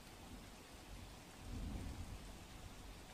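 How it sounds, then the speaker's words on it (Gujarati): Unseasonal rain falling steadily over Surat during a thunderstorm, a faint wash of rain noise with low rumbling swells. "વહેલી સવારથી કમોસમી વરસાદ છે વરસી રહ્યો છે"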